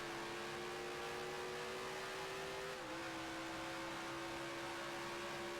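A Ferrari race car engine in the racing game Grand Prix Legends, set at the 1967 Siracusa Grand Prix, drones in a steady high whine, its pitch holding and then dipping slightly partway through, with no talk.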